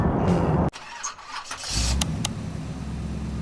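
A Kia K8 2.5 gasoline sedan on the road toward a winding course, its engine droning steadily at close range after a brief drop in level, with light whooshing road noise.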